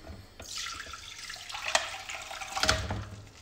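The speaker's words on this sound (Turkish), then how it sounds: "Şimdi suyunu süzüyorum." Hot soaking water pours off dates being drained after a long soak, a soft, close splashing trickle that swells and fades over a few seconds, with no voices.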